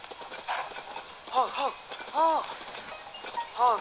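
Horse galloping in Zelda: Tears of the Kingdom, with a rapid clip-clop of hooves running throughout, mixed with short tonal game sound effects and someone talking over it.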